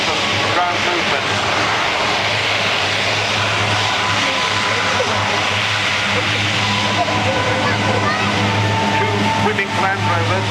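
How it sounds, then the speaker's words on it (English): A military aircraft's engines running loud and steady as it reverses up the runway at an air show, a continuous close roar with a constant low drone throughout. "the aircraft is then able to reverse up the runway so to take off in absolute minimum length of ground movement"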